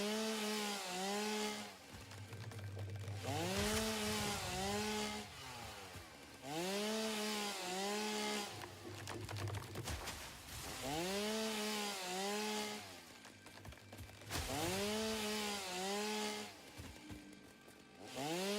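A chainsaw cuts through foliage in the video game Satisfactory, revving in repeated bursts about every few seconds, with pitch rising and falling on each pass, loud and close with no talking.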